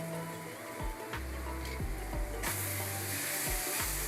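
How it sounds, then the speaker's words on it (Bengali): Spice masala with Kashmiri chili powder sizzles steadily in hot oil for a Bombay duck curry, with repeated scraping strokes of stirring cutting through the frying hiss. "সবকিছু একসাথে মিশিয়ে ভালো করে একটু কষবো"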